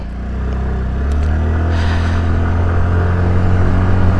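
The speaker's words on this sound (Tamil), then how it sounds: "ஃபுல் த்ரோட்டல் கொடுத்தாச்சு." Yamaha Fascino BS6 scooter accelerating at full throttle, a loud, steady engine drone whose pitch climbs gradually as speed builds, with continuous road and wind rumble underneath.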